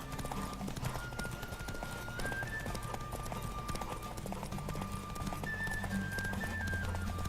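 Steady rhythmic hoofbeats of a galloping horse in The Witcher 3: Wild Hunt, close and continuous, with a high electronic tone and a whinny-like cry mixed in beneath faint voices.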